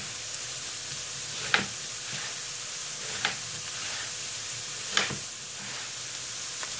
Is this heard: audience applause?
no